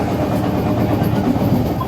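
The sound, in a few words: Sealdah–Ranaghat AC EMU local train running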